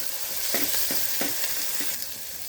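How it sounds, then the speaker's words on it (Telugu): Ginger garlic paste fries in a pan for mutton paya curry, a steady bright sizzle with a few soft scraping stirs of a spoon, and no voices. "అల్లం వెల్లుల్లి పేస్ట్ పచ్చివాసన అంతా పోయి మంచిగా ఫ్రై అయిందండి"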